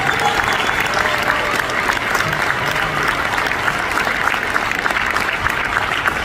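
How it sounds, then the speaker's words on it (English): Audience applause for a student orchestra at a school district orchestra festival, a dense, loud, continuous roar of many hands clapping with some crowd murmur mixed in, steady throughout. "Give them another round of applause for that."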